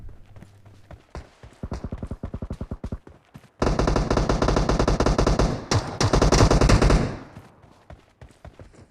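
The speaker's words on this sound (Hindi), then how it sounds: "सामने से गोलियों का आवाज़ आता है" Rapid bursts of automatic gunfire in the PUBG Mobile battle royale game, a short stuttering volley followed by a long loud sustained barrage that cuts off abruptly, close and harsh with no talk.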